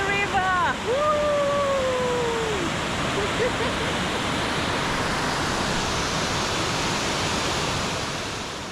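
Rushing river water at Mossman Gorge, heard from a hanging bridge, roars in a loud, steady, broadband wash; a brief whistle-like tone and a short voice rise over it at the start.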